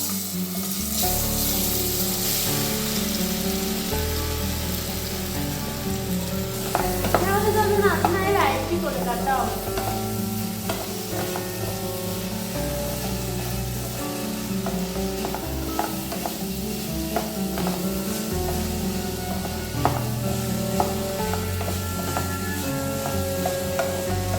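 Banana pieces frying in hot ghee in a pan give a steady close sizzle with occasional stirring scrapes, running continuously under a background of music or voice.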